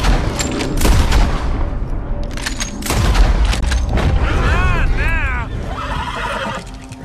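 A horse in the open-world western game Red Dead Redemption 2 lets out whinnies amid loud gunfire, booms and hoofbeats during a chaotic gang fight, with the neighs rising and falling in arcs over the din.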